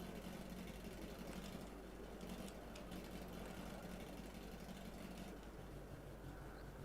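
A race car idles roughly on the starting grid at Queensland Raceway during an ASR Summer Series round, a steady, faint low rumble that holds without a break for the whole stretch.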